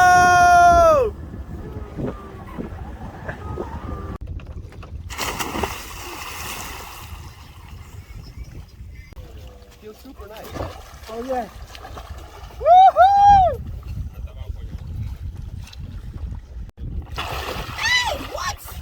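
Water splashes and wind rush around a small boat as it moves along, with people chatting and calling out nearby.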